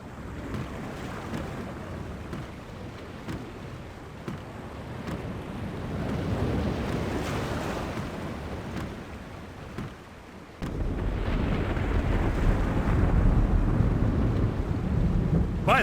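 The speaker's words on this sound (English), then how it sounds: "The storm is closing in." A looming storm at sea in the game The Longest Journey: a steady roar of wind and crashing waves with thunder-like rumbles, broken by a brief dip before a louder, denser surge of storm noise.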